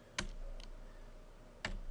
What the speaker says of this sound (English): So if you're typing using a keyboard and you type 1,